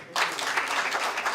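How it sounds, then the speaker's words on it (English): Sustained applause from an audience at a talk on countering violent extremism in the Horn of Africa, dense and steady clapping starting after a brief quiet moment and continuing evenly throughout. "Let's give him one more round of applause."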